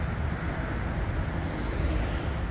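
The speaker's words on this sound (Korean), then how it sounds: "바람이 세게 불고 그러니까" Strong wind buffets a microphone outdoors at a flower nursery, giving a steady, loud broadband rumble and roar that runs unbroken through the whole stretch with no voices.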